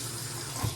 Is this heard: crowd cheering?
no